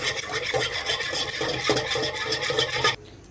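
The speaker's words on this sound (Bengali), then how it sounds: "হ্যান্ড ব্লেন্ডার সাহায্যে ঘুটিয়ে নিতে হবে" A hand blender whisks eggs, milk and yeast in a bowl, giving a continuous buzzing whir with scraping texture that stops abruptly near the end.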